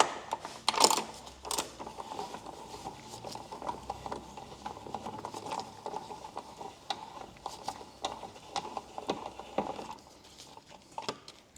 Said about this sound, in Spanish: Ahora cogemos el vaso de 14 y vamos a apretar.